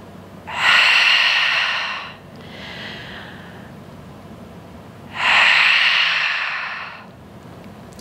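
Heavy breathing during a Pilates wall workout: two strong, drawn-out breaths about four seconds apart, close and breathy, with a softer exhale between them and no speech.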